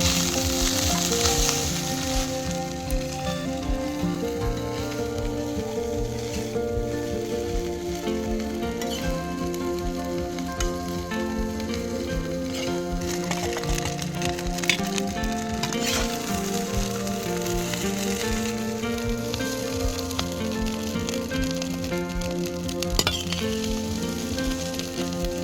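Village-style sticky puti fish pulao fries and sizzles loudly in a pan with the fried fish mixed in. Steady crackling runs throughout, with occasional scrapes and clinks of stirring and no talking.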